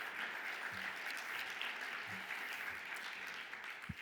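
An audience at a panel on green hydrogen regulation gives a round of applause, an even patter of many hands heard at a distance and fairly faint, with a few low murmurs beneath.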